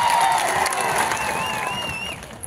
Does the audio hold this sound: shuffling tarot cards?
no